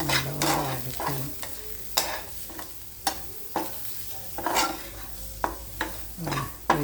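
Breadfruit mezhukkupuratti with garam masala being stirred in a pan, a spoon scraping and clacking in irregular strokes over a soft background sizzle, close and clear with no talking.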